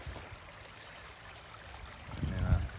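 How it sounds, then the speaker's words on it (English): A small creek flows through a rural campsite with a soft, continuous trickle of water nearby, and a brief low thump near the end. "got a nice little creek"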